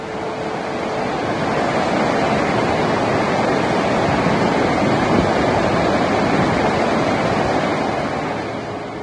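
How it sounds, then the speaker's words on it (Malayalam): Alakapuri waterfall in Kannur plunging about two hundred feet over rocky ledges, a loud, dense, unbroken roar of falling water with no voices. "ഏകദേശം ഇരുന്നൂറടി ഉയരത്തിൽ നിന്നാണ് പാറക്കെട്ടുകളിലൂടെ അളകാപുരി കുത്തനെ താഴേക്ക് പതിക്കുന്നത്"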